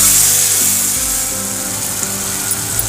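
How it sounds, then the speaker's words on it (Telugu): Tomato paste for a fish curry sizzles in a hot pan, a constant loud hiss with a low hum and a few faint clinks near the end. "ఈ టమాటా పేస్ట్ కూడా కొంచెం పచ్చివాసన పోయేంత వరకు వేపాలి"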